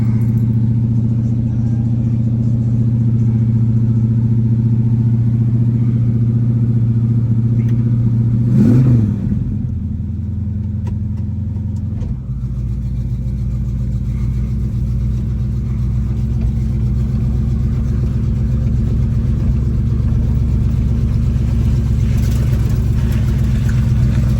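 An old bumpside Ford highboy truck engine idles loud and steady in the country, with a low rumbling drone throughout; a brief surge near the middle shifts the tone before it settles back into a continuous idle.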